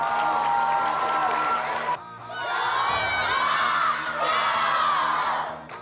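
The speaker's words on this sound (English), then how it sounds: "Round of applause for Colin." A school audience claps and cheers loudly for a performer, with shouts and whoops from many voices, dipping briefly before surging again and fading at the end.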